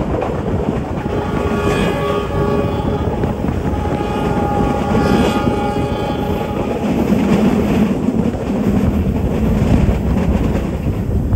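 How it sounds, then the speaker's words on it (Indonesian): Kamandaka economy passenger train rolling into Purwokerto station, a loud continuous rumble of wheels and carriages with faint clattering and brief tonal squeals throughout. "Kereta api Kamandaka sesaat lagi akan tiba di tujuan akhir stasiun Purwokerto."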